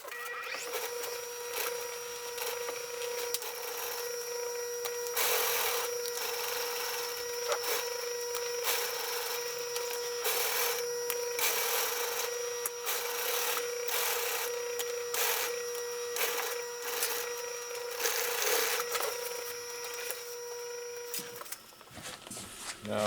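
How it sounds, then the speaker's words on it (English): A sewing machine runs a straight stitch along the edge of a carbon laminate RC sail, giving a continuous close mechanical whir with a steady high whine and small irregular bumps for over twenty seconds, with no talking. "So I'm going to sew this first. It's just a straight stitch just behind the edge."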